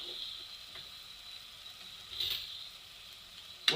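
Rice with black pepper and salt frying in hot fat in a pot, giving a steady, faint sizzle with a couple of brief, sharper crackles.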